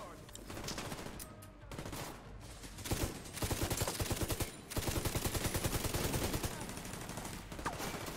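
Sustained automatic gunfire from a deployed turret and weapons in the video game The Division, rapid rhythmic bursts filling the mix steadily, with a voice speaking intermittently underneath.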